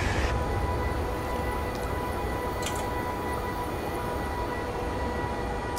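A DDZ double-deck electric train runs in Train Simulator, a loud steady rumble of wheels and motors with a constant whine, plus a brief high squeal near the middle.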